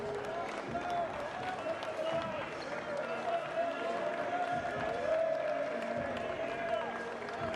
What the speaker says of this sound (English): So the applause is from Jordan.